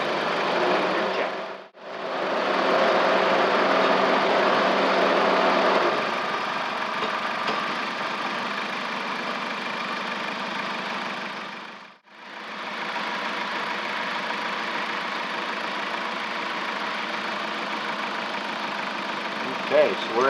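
A Jeep engine with a Hyundai 6F24 transmission, idling steadily while the transmission is run through the gears, a constant close engine drone dipping sharply twice as gears change.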